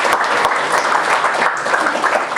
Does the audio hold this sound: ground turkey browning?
no